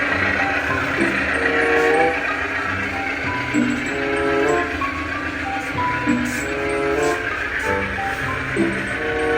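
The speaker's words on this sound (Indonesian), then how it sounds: "Kereta api Argo Wilis memasuki jalur 3 stasiun Banjar" Argo Wilis passenger train rolls loudly into Banjar station on track 3, a constant heavy rumble of wheels and carriages with a train horn sounding in steady tones throughout, close by.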